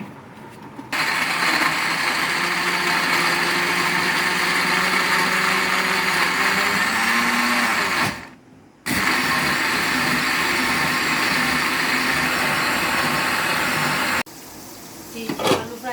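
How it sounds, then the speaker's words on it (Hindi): A blender grinds a cup of green coriander with spices and a few spoons of water for a fish curry masala, running loud and steady for about eight seconds, cutting out briefly, then whirring again before stopping. "अब इसको हम पीस लेते हैं।"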